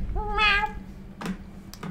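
A small cat gives a single clear meow, fairly close, followed by faint clicks and soft background noise from a Rainbow Six gaming session.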